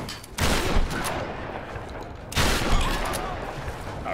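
Gunfire in the video game Tomb Raider 2013: two loud, broadband shots about two seconds apart, each followed by a long decaying rumble, with no talk over them.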